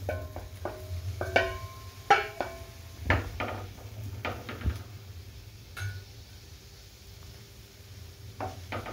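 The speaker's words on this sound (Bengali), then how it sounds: "এবার আমি টমেটোগুলোকে দিচ্ছি।" Fresh tomatoes drop into a pan for tomato soup, a series of clattering knocks and light impacts followed by quieter scraping and a soft background sizzle.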